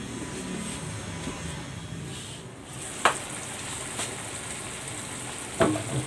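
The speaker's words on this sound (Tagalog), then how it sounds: "lutuin natin yan hanggang sa magmantika yung gata" Canned mackerel simmers in coconut milk seasoned with salt and pepper in a covered pan, giving off a steady, soft sizzle and bubble with a couple of sharp clicks near the end.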